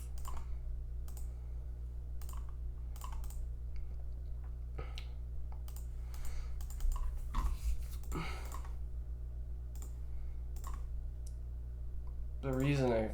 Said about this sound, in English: Clicking way too fast.